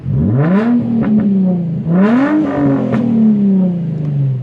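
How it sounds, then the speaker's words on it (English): An Infiniti G35 engine with an intake setup is revved twice with the car standing still, each blip climbing sharply in pitch and then sliding back down to a steady idle hum, loud and close with no talking. "Let me give y'all a little rev real quick."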